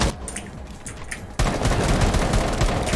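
Rapid gunfire in Rainbow Six Siege rattles in a dense burst, quieter bursts first, then a loud continuous volley with no talking.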